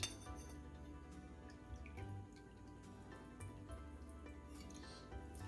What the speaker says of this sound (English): Don't you just love the sound of creamy pasta?